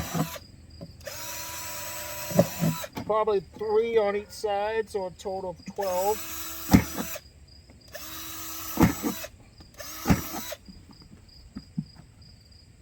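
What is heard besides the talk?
power drill drilling holes in plastic kitty litter container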